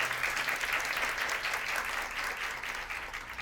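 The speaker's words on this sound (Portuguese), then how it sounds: "uma salva de palmas aí para os professores" A live audience applauds teachers at a literary festival talk, steady continuous clapping from a sizeable crowd held at an even level throughout, with no voices over it.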